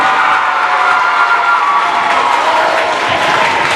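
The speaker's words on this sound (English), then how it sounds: "Let's give Emma and Allison a very nice round of applause." Audience applause at a spelling bee, a dense, steady clapping that holds loud and unbroken throughout with a faint crowd murmur.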